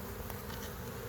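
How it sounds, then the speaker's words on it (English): Honey bees hum at the entrance of an overwintered nucleus hive, a dense, steady close buzzing of many insects flying in and out, with no voices. "There's a lot of bees going in and out"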